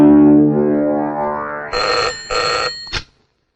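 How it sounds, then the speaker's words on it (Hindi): A telephone in a Hindi movie scene produces sustained electronic tonal ringing. It starts as one long tone, then two short rings and a brief final chirp before it cuts off to silence. "जा जल्दी शीला के बाप को फोन कर दे"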